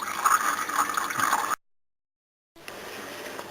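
Power steering fluid drains from a car's reservoir with a steady watery trickle and gurgle, which cuts to a second of silence and then resumes more faintly.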